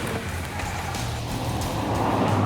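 Audi TT driving on a private test track outside London, a steady, close engine and road rumble holding constant and loud throughout.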